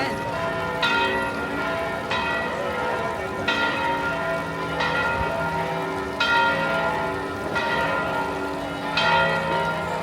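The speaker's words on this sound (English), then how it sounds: "The bells in Piazza Navona." Church bells ring at noon in Piazza Navona, Rome, with several bells sounding together in steady, evenly spaced strikes and a sustained shimmer of overtones, loud and continuous.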